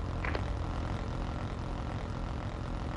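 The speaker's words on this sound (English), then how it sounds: "Hostile stealth chopper inbound." Video game stealth helicopter approaching, a steady broadband rotor and engine roar that fills the whole clip at moderate level, with no talk over it.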